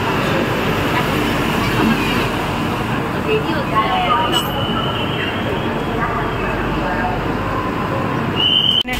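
A Garib Rath Express pulling out of Kolkata station, a steady low rumble with rail noise running throughout, loud and close, with some voices mixed in.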